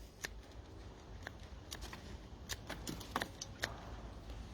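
Scissors snip through anthurium roots in a handful of quick, crisp cuts, close and fairly quiet, with no talk.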